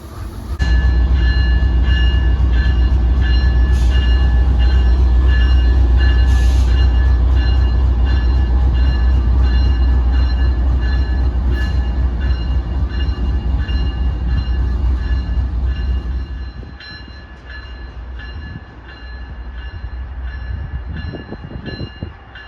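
Loud, steady rumble of an Amtrak locomotive detaching from a Superliner passenger train up close, with metallic clanks and hissing, the roar easing off toward the end.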